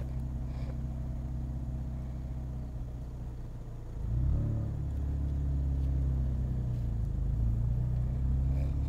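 A manual-transmission car moving off as the clutch is let out, a steady idle rumble that swells into a heavier, louder engine drone around the midpoint and holds as it rolls forward.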